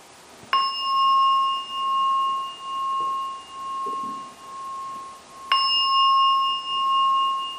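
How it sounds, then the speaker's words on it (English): A meditation gong at a monastery retreat is struck twice, several seconds apart; each bright, clear tone rings on in long, steady, gently pulsing sustains. "we'll finish off on meditation after the three gong."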